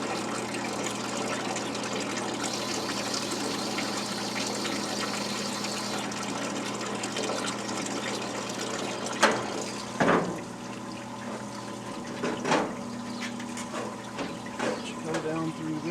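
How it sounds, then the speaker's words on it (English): Water trickles and flows steadily down through a swamp cooler filter with a low pump hum beneath, fairly quiet and close, broken by a few brief knocks and clatters. "We see water flowing down in here."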